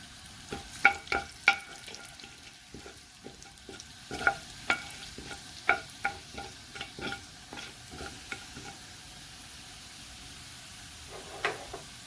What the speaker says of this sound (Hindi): सबसे पहले ये 2 चम्मच घी लेकर थोड़ा गर्म हो जाए तो हम इसमें छोटी इलायची डालेंगे